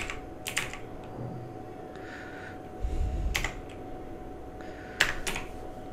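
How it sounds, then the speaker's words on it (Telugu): Keys clack on a desktop computer keyboard in a few short, separate bursts of close, crisp presses with quiet pauses between them and no talking. "ఇక్కడ కీబోర్డ్ మీద 1 అనే బటన్ మనం ప్రెస్ చేస్తే"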